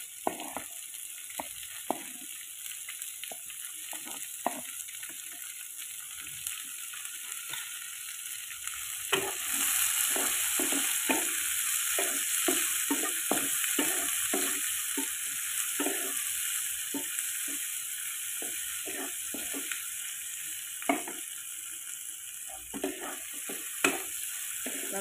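Shelled clams are stir-fried with chilli in a pan, giving a continuous sizzling hiss over a long stretch with frequent scraping stirs and clicks of a spatula, close and moderately loud.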